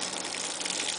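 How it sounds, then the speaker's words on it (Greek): A little water is poured over a morel mushroom bed, a brief, fairly loud and steady splash of liquid. "Ρίξε πολύ λίγο νεράκι από πάνω."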